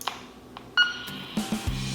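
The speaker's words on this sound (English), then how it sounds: "just twist it and it'll do a beep and turn it on" A quick high-pitched electronic beep as a Sporty's PJ2 handheld aviation radio switches on, followed by a few soft clicks and low buzzing tones.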